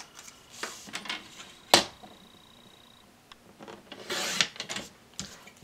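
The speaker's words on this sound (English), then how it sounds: "So I'm just gonna trim that down." Paper being trimmed for a scrapbook layout gives a few close, quiet scrapes and sharp snips, with one crisp cut near the middle and a longer rasping stretch toward the end, no voices.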